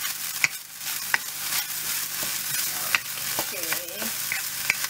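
Pork fried rice being stir-fried in a pan: a steady close sizzle with scraping spoon strokes and occasional sharp clicks of the spoon against the pan, continuous throughout with no talking.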